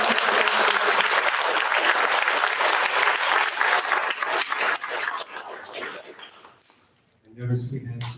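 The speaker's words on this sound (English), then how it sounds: "Let's give Carrie a round of applause." Audience applause for Carrie at a LaunchCode St. Louis event, a dense, loud round of clapping that holds steady, then thins and fades out before a voice starts talking.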